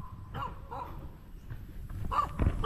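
A dog barks a few times at moderate distance outdoors in a rural Philippine rice-field setting, short sharp barks spaced irregularly and growing a bit louder toward the end.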